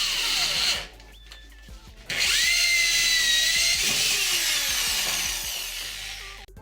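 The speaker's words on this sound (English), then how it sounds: "marking and drilling holes for the screws of the faceplate" A power drill whines loudly, pauses briefly, then spins up again, its pitch sliding as the bit bores screw holes for a center console faceplate, with no talking.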